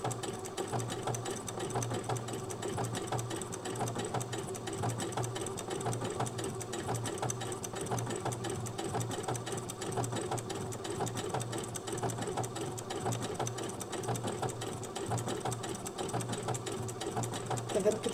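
An overlock sewing machine hums continuously as fabric feeds through under the presser foot, a steady, close, even mechanical drone with a fast stitching buzz running unbroken throughout.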